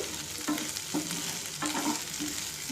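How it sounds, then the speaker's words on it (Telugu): Fenugreek leaves fry in a pan over a low flame for aloo methi, a soft continuous sizzle broken by regular scraping strokes of a stirring spoon, close and with no talking. "ఇప్పుడు సన్న సెగ మీద అలా వేయిస్తూ ఉండాలి"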